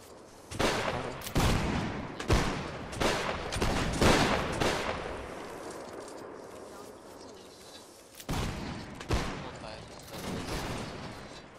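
Musket volley fire in a Napoleonic Wars battle game, several loud ragged volleys crackling at the start and again near the end, with shouted commands between them.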